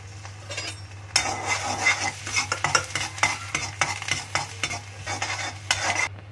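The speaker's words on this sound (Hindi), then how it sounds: "अब डाल देते लहसुन।" Garlic hits hot mustard oil and butter in a pan for dal tadka, bursting into a sudden loud sizzle with repeated stirring clinks and scrapes of a spoon against the pan, set over a steady background hum.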